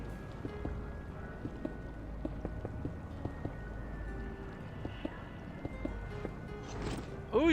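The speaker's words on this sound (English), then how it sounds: "Oh, you're getting rain." Rain falls in the video game Minecraft as a steady, low hiss with scattered light ticks and taps throughout, and a brief voice comes in right at the end.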